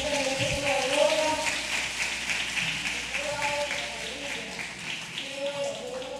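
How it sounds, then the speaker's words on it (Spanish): Church congregation applauding during a service, a soft sustained patter of clapping heard at a distance, with a voice and faint tonal sounds underneath. "Vamos a dar un aplauso a nuestro Dios."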